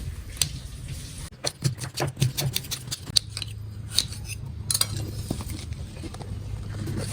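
A knife thinly slices jackfruit in a Kerala kitchen, producing a quick series of crisp, close cutting clicks and taps against a board, followed by softer scraping handling sounds.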